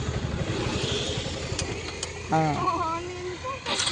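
A Yamaha R15 motorcycle engine revs low and steady as the clutch is slowly let out, heard close by beneath a person talking.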